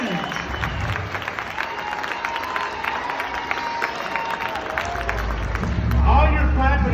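Steady applause from a large audience at a network marketing business event, dense clapping with scattered cheers running continuously and growing louder near the end.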